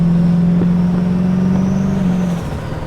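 The turbo V8 in a 1984 XE Falcon wagon lets out a loud, steady siren-like whine while driving, holding a sustained tone before it drops away near the end.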